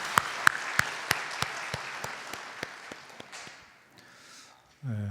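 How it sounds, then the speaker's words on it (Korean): A church congregation gives a short burst of applause, opening with several strong, slow rhythmic claps that thin out and fade over a few seconds before a voice comes in at the end. "하나님께 영광의 박수하겠습니다."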